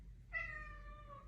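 A cat meows at a closed door, one drawn-out plaintive cry, close and fairly quiet over a low background hum.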